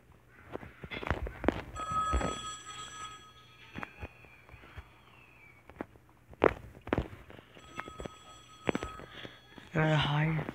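Telephone ringing in the video game EYES: a repeated electronic ring with steady tones recurs across the clip, interleaved with footsteps and sharp clicks, while a person talks over it.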